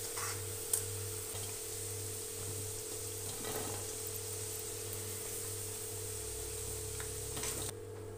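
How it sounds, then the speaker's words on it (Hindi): Potatoes frying in hot oil in a kadhai give a soft, steady sizzle with occasional light clicks and stirring sounds, fairly faint and without talk. "आलू फ्राई हो गए हैं, आलूओं का कलर चेंज हो गया है"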